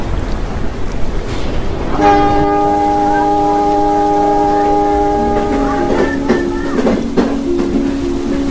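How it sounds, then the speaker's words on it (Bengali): A cartoon train whistle blows as the train pulls out of a station on a stormy night, a long steady multi-tone blast starting about two seconds in and shifting pitch near the end over rumbling background noise. "আর এদিকে ট্রেনটিও তার হুইসেল দিয়ে রওনা হলো গঙ্গাপুর স্টেশন থেকে।"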